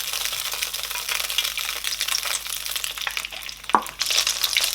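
Oil sizzles steadily in a hot pan that just held fried beef for a stir fry, a continuous bright crackle with one sharper clatter near the end and no talk.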